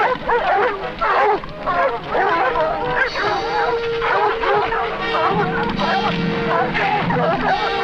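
Several trained hunting dogs bark and yip repeatedly at a jaguar in the wild, excited yelps and whines overlapping in a busy, uneven chorus at moderate distance.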